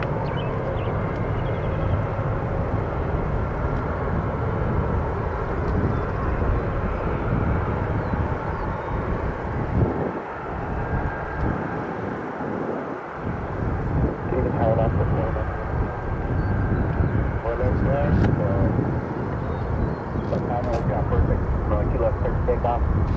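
Arriving airplanes at Nashville International Airport make a steady, loud broadband rumble that holds for over twenty seconds, with wind buffeting the microphone, a brief dip near the middle and faint radio voices underneath.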